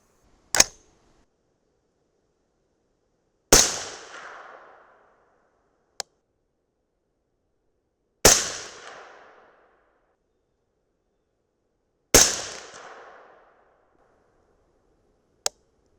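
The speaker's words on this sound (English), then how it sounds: "So the target's at 100 yards, shooting off a bipod and a rear bag." .223 Remington rifle firing 77-grain match rounds from a bipod and rear bag at a 100-yard target, three loud sharp cracks spaced several seconds apart, each trailing off in a short echo, with faint clicks between.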